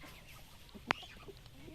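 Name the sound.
rooster clucking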